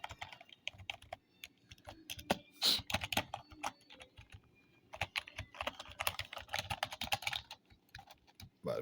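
Typing on a new SNPURDIRI gaming keyboard, bursts of rapid clicky keystrokes close up, with short pauses between flurries and some faint rustling.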